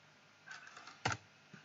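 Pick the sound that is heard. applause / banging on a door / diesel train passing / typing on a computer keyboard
typing on a computer keyboard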